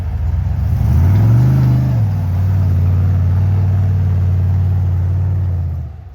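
An off-road vehicle with a low, loud engine roar climbs a patch of soft sand. It revs up briefly, then holds a steady droning pull before cutting off at the end.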